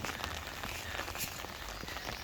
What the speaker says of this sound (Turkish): Gördüğünüz üzere bugün yağmurlu.